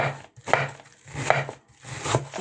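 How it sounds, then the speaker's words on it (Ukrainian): Knife finely shredding young cabbage for a cabbage and carrot salad, three separate bursts of quick chopping strokes on a board, close and fairly loud, with short pauses between. "Беремо молоду капусточку і нашинковуємо її тоненько-тоненько, щоб вона світилася."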